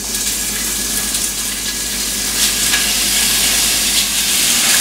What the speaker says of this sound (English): So we're going to get this bacon into a hot pan.